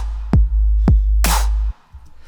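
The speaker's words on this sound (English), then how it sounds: "a snare, and the snare was the Steely Beats kit." A Steely Beats kit snare from Logic Pro's Ultrabeat drum machine plays three hits over a sustained deep sub-bass tone. The first two are sharp, clean cracks and the third is a louder, noisier burst. The sound stops abruptly near the end.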